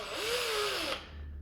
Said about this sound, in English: If you go all the way with the power drill by hand, that will spin around